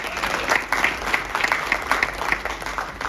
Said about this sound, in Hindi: तालियां तो बजती रहनी चाहिए।